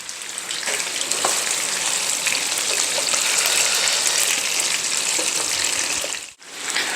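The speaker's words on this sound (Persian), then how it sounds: "همینقدر سرخ کردن برای ما کفایت میکنه" Chicken pieces fry in a pan for a Persian barberry rice dish, giving a loud, steady, dense sizzle that cuts out for a moment near the end.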